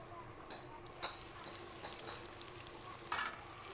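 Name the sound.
duck meat frying in covered pan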